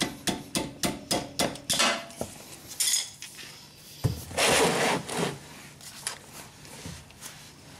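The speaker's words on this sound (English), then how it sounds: "we're gonna use the long wrench to break this loose" A long wrench works loose the drain plug on a Honda Civic manual transmission, giving a series of sharp metallic clanks and clicks, then a louder creak and scrape as the plug breaks free, heard close up with no talk.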